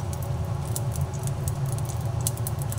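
Dry red chillies and chopped garlic fry together in hot mustard oil, giving a steady, dense crackling sizzle that runs unbroken throughout with no talking.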